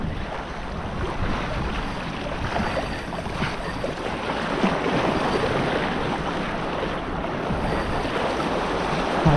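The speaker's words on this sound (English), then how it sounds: "Those breakers are gonna try to sweep me off the rocks." Ocean breakers crash and churn against the rocks of a coastal jetty, a loud continuous roar of surf with gusting wind buffeting the microphone.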